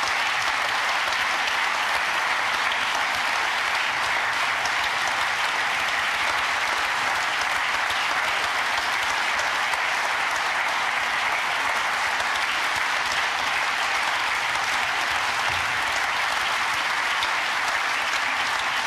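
A festive ceremony audience gives former Federal President Horst Köhler steady, sustained applause. The dense clapping of a large crowd continues unbroken at an even level from start to finish, with no talking over it.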